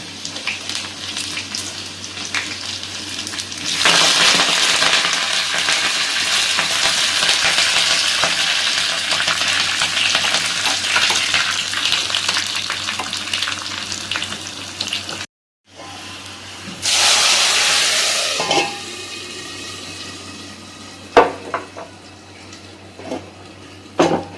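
A tempering of curry leaves and small onions sizzles in oil in a pan and is stirred, a broad, loud crackling hiss with scraping, briefly cut off, then resuming with sharper sputters and a few clanks near the end.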